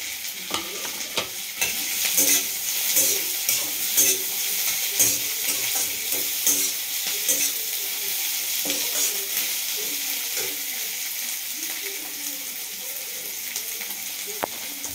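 Crushed garlic sizzles in a hot pan while a utensil scrapes and stirs it in a quick, irregular rhythm of clacks over a continuous frying hiss.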